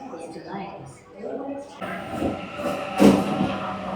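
A commuter train pulls into a Sydney railway station, its rumble and rattling carriages building toward a louder rush near the end, heard under nearby conversation on the platform.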